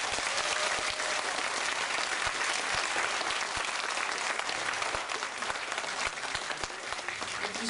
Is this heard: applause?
yes